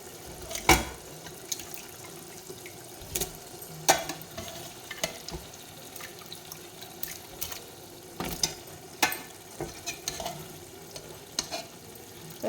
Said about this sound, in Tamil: இப்போ நம்ம அதை மசாலாவோடு சேர்த்து இதையும் நல்லா வதக்கிக்கலாம்.